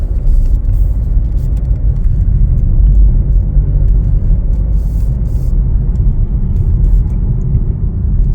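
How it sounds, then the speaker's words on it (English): Steady low engine and road rumble from a 2024 Chevrolet Trax RS small SUV cruising along, continuous and even throughout with no voices. "Take this one for a little test drive here."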